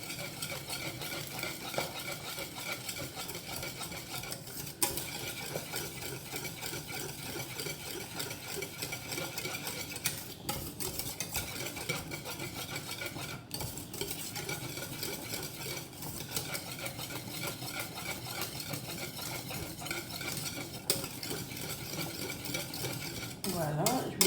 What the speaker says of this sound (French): Je mélange. Et je continue à surveiller ma purée.